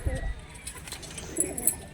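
Kaldam pigeons coo in a rooftop loft, giving a few brief, soft throaty calls close by while a voice talks over them.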